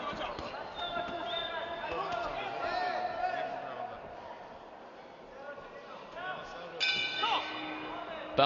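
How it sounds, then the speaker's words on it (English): A boxing bell rings to close the second round of a professional bout, bright metallic clangs sounding near the end beneath steady commentary and a murmuring crowd. "Bell goes to the end of the second round."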